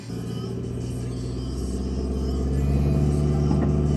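A Ford car engine revs steadily with the brake held down, a loud continuous rumbling drone that rises slightly in pitch and intensity partway through, close and sustained with no talk.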